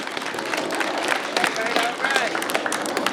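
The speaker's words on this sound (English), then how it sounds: "Let's give that a round of applause." Crowd clapping and cheering at the reopening of the renovated Pop Lloyd Stadium, a lively outdoor burst of applause with scattered whoops and voices mixed in.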